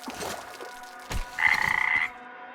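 A toad croaks once in Metro Exodus, a short, fairly loud buzzing call with a rapid pulsing rattle, following a splash-like thump and game ambience.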